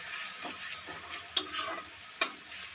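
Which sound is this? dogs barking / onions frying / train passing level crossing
onions frying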